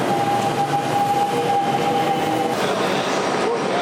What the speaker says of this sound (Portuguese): a porta do trem acaba de fechar